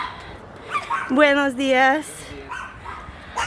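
A puppy on a morning beach walk yips and barks in a short run of high, bright calls near the microphone, with a person talking and greeting before and after.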